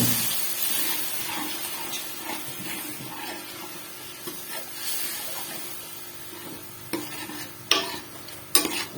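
Water splashed into a pan of frying potatoes and eggs sets off a sizzle and spatter, with soft stirring and a few sharp clinks and scrapes, close and unaccompanied by speech.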